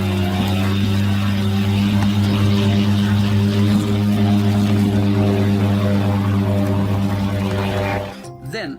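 The Gorlitsa operational-tactical reconnaissance drone taking off on its first test flight, a loud, steady propeller-engine drone with strong tonal harmonics that cuts off abruptly near the end.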